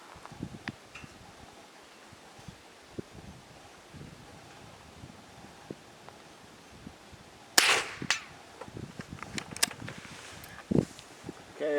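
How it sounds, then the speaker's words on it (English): Old Federal Value Pack rimfire ammunition fired outdoors: a loud sharp crack about two-thirds through, then a few fainter pops, over steady wind noise and light rustling. "I'm just shooting some really old Federal Value Pack."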